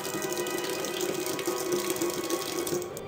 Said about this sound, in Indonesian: Air keran yang mengalir sendiri.